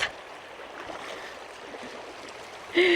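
Water splashes and burbles steadily in a shallow, cold stream while someone wades through it, close by, and a brief sharp sound cuts in near the end.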